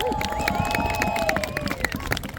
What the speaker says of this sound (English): Come on, round of applause for Walter.